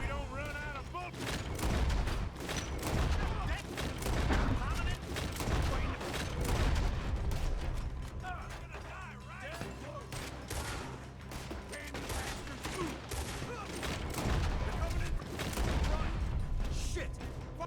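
Dense gunfire in the Western video game Red Dead Redemption 2, repeated shots and volleys crackling throughout over music and game noise, with voices in the mix.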